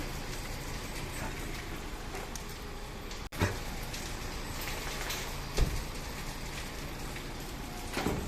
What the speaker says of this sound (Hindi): अभी भी बारिश हो ही रही है यार